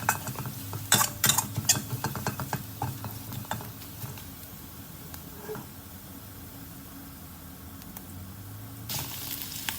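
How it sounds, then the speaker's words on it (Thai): Blended dried chili and cumin leaves stirred in a hot pan for a Thai minced beef stir-fry, with a spatula scraping and clinking against the pan in quick strokes over a soft, steady sizzle, alone without talk. "ผัดให้หอมนะครับ"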